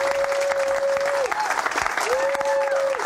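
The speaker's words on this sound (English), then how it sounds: "It's a lively crowd. This is a very intoxicated crowd." A lively studio crowd applauds loudly and steadily throughout, while someone talks over the clapping.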